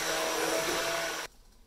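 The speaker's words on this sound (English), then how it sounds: "I'm going to just keep plugging away and chugging away with this blender" A blender whirs loudly and steadily, pureeing pumpkin soup, then abruptly switches off, leaving near silence.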